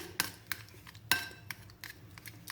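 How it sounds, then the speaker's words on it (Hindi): A metal spoon mashes boiled, cooled eggplant in a bowl, giving a few sharp clinks and soft scraping taps at irregular intervals, close and fairly quiet. "बैंगन को मैंने हल्के हाथों से थोड़ा थोड़ा मैश कर लिया चम्मच की मदद से"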